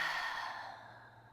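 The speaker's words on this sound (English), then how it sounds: "Take a deep breath in and exhale." A single audible exhale after a deep breath in a guided yoga session, soft and close, fading out over about a second and a half.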